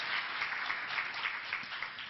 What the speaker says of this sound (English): Yes, the panel clearly deserves applause.